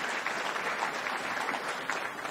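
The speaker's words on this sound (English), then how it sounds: "Give a hand clap to Jesus." A church congregation at a Bible study claps hands together, a steady, moderately distant patter of many hands sustained throughout without break.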